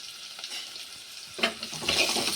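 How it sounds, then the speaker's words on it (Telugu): Mutton keema pulao being stirred in a pot after salt is added, a steady soft sizzle with scraping spoon strokes that grow louder and busier in the second half, no voices. "ఉప్పు వేసుకున్నాక కలపాలి"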